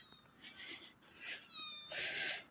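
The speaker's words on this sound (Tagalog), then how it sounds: "Daming pusa dito guys." A cat meows a few times, soft and somewhat distant, with drawn-out plaintive calls over quiet background noise.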